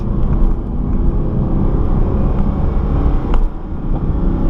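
A loud, continuous roar from a Mercedes SLS AMG's naturally aspirated 6.3-litre V8 fills the clip with a deep, steady drone, mixed with heavy wind and road noise from inside the moving car.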